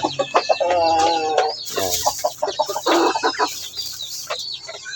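Large farm chickens cluck in a loose run of short, fairly close calls, with quieter background noise between them.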